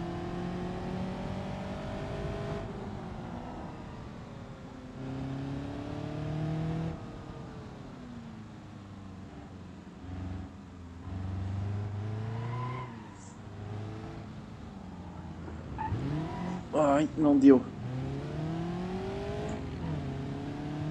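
A car engine in BeamNG.drive drones steadily, its tone rising and falling through gear changes. A short clattering flurry comes near the end, and a voice speaks briefly.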